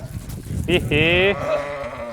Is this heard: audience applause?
no